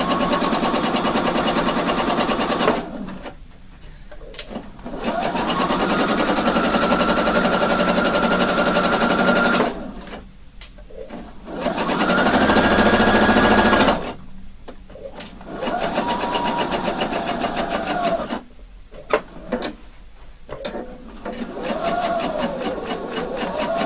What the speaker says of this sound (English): So now we've sewn it, the 2 pieces together.